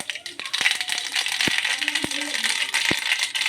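Mustard seeds dropped into hot oil for tempering a dosa chutney crackle and pop with sharp scattered clicks over a continuous bright sizzle, close and fairly loud.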